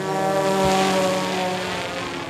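A small drone with an HD camera on board flying outdoors at a high school, its propellers giving a steady buzzing whine with layered tones, fairly close and continuous.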